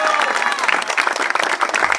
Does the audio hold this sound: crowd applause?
yes